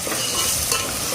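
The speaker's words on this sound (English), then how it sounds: "Now after adding ginger garlic paste, we have to fry it" Loud, close sizzling and stirring as ginger garlic paste fries in biryani masala, a dense continuous hiss with no talk.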